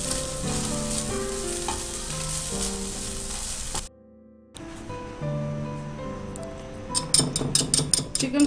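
Small chopped chicken pieces sizzle and fry in a pan in a steady hiss, with a brief gap midway and then clinks of stirring toward the end, no talk over it.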